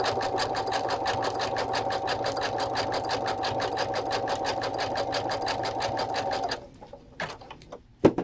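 A Brother sewing machine runs a wide satin stitch for applique, giving a steady, fast, evenly pulsing mechanical whir close up that stops near the end, followed by a few small handling clicks.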